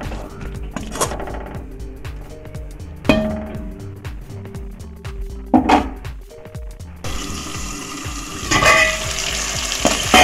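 Tomatoes fry and are stirred in a pan with oil, heard as loud, close sizzling. Repeated metallic scrapes and clinks of a spoon break in at intervals, and the frying grows hissier toward the end. There is no speech.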